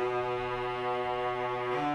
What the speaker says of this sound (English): So what I have here is cello.